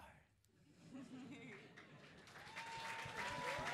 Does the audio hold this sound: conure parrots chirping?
no